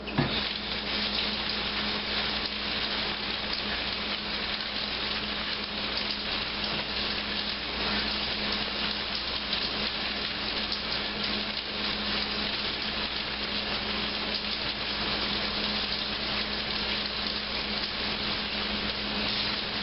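Steady, even hiss of running water as tomatoes for pico de gallo are cleaned under the surface, a constant close splashy wash with no pauses.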